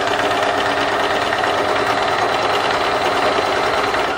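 A sewing machine runs steadily at close range, stitching along the edge of white lace with a continuous, even mechanical whir and rapid needle chatter throughout.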